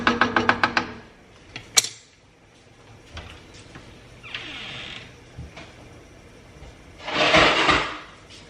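Kitchen cupboards and drawers being searched for a pot lid: a quick rattling run of knocks, a sharp clank, soft scrapes and sliding, then a louder clattering swell as a lid goes onto a pot on the stove.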